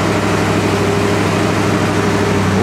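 A 1970 Chevelle SS 396 V8 with its original carburetor idles steadily and loudly, with a constant low rumble and even drone throughout.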